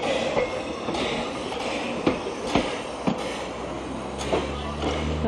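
A steam train on the Corris Railway in Wales rumbles past outdoors, a steady broad rolling noise with occasional clanks and knocks, fairly loud and without voices.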